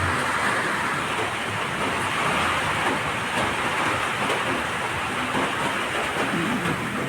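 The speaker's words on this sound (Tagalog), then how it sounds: "Ay, ulan talaga." Heavy monsoon rain pours outside a second-floor home, a dense, steady hiss of downpour on surfaces that holds at an even loudness throughout with no talk.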